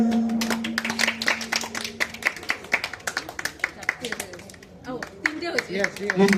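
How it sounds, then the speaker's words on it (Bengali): People at a picnic clap in bursts of sharp, uneven claps, mixed with chatter and talk around them. "সবাই হাততালি দেন"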